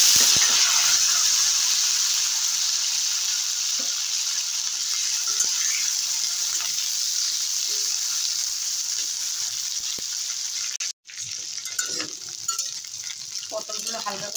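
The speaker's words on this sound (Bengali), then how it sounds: "পটলগুলো হালকা করে ভেজে নিলাম।" Pointed gourd frying in plenty of oil with whole cumin, a steady loud sizzle running throughout with occasional stirring scrapes and a brief dropout near the end, no talking.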